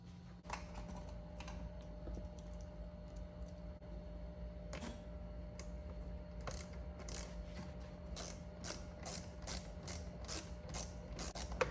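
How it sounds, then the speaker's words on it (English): A T20 Torx screw goes back into a Tesla Model Y or 3 interior panel, with a quiet run of rapid ratchet clicks building toward the end over a low steady hum, close and faint, no speech. "go ahead and put the T20 torque screw back"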